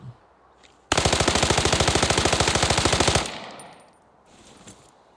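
Rapid automatic fire from an AR-class rifle in the shooter game Arena Breakout, a single sustained burst of about two and a half seconds with evenly spaced loud cracks, followed by fading echo and quiet ambience.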